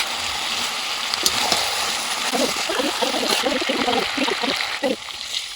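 Marinated meat goes into a hot kadai, bringing a splashy sizzle and a burst of crackling frying with some spatters that carries on until the end.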